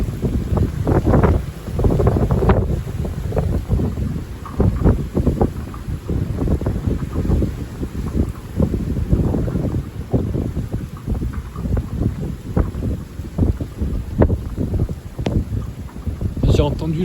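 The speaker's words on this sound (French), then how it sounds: "J'ai entendu le bruit du vent au fond." Strong wind from a hailstorm, gusting around 70 to 75 km/h, buffets the microphone in heavy, continuous gusts, roaring and rumbling with rapid bursts throughout.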